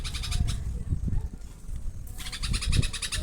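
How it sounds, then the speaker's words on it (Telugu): Birds calling in a garden, a rapid chirping series close by, then a pause and another burst of calls, with outdoor rustle and handling noise underneath. "పిట్టలు వచ్చినాయి చూడండి"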